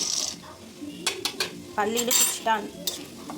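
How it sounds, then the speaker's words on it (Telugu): Peanuts dropped into hot oil in a pan for tempering tamarind rice, then stirred with a metal spoon: a few close, sharp clinks and scrapes over a faint sizzle, with no voices. "ముందుగా పల్లీలు వేసుకుందాము."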